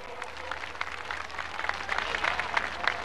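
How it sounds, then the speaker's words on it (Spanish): A crowd applauds after a musical performance at an outdoor patriotic flag rally in Bolivia, with steady clapping at moderate distance that swells slightly toward the end. "Un aplauso para él con su música, con su composición."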